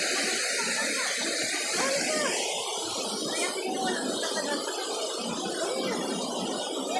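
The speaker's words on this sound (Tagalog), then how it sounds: "Lakas ng tubig guys oh." Loud, continuous rushing water roars close by at a waterfall, a dense steady torrent, with faint voices barely audible beneath it.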